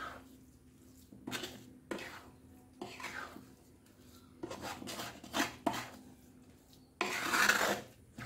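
Suji and coconut halwa with ghee being stirred in a pan, giving intermittent scraping and clinking strokes of a spoon against the pan, with a louder stretch of scraping near the end.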